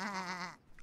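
A sheep bleats in a cartoon counting scene: one sustained, wavering, harmonic bleat heard close and alone, stopping abruptly.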